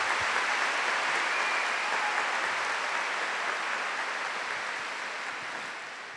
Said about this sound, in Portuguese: Uma salva de palmas para essa família.